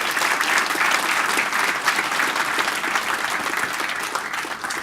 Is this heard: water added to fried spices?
no